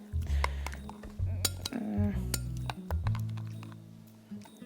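Chia seeds in coconut milk stirred quickly with a spoon in a glass, rapid clinking and scraping taps against the sides, close and bright, with a low hum underneath.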